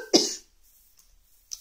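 A single close, sharp cough bursts out near the start, then a short, faint throat sound follows after a quiet pause.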